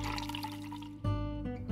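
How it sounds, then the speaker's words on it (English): Boiling water pours into a coffee pot fitted with a soft brew filter and ground coffee, a short liquid splash and trickle whose tone rises as the pot fills, alone without talk. "pour in the boiling water,"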